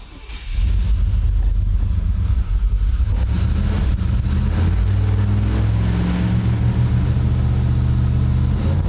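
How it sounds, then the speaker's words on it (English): A Chevy sport truck with an open differential spinning one wheel on a wet concrete shop floor, the engine revving hard in a sustained loud roar that holds steady over several seconds. "A little bit of water on our concrete shop floor will show that all the power is going to get pumped through one wheel"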